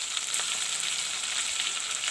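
Ginger garlic paste fries in a hot pan for a fish and cauliflower curry, producing a constant, close, crackling sizzle throughout.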